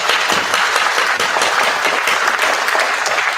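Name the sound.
round of applause at a school honor society ceremony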